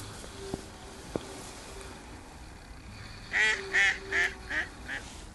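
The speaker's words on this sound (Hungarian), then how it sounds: "Kacsák is már csak mondják, mert kezdenek el vackolni már éjszakára" Ducks at the water's edge near a nest at dusk give a short burst of five loud quacks in a row, preceded by a couple of faint clicks in an otherwise quiet outdoor setting.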